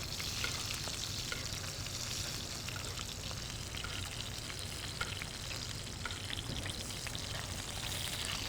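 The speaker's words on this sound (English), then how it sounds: "So we're just basting it with that beef fat, yeah? Get a nice sizzle." Ribeye steak searing and being basted in beef fat in a pan, a steady close, loud sizzle and crackle of frying with spoon clinks throughout.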